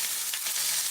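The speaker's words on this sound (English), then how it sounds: "we're going to throw some peppers and onions" Peppers and onions fry loudly in a cast iron skillet, a dense, steady sizzle heard close up with no voices, lasting under a second.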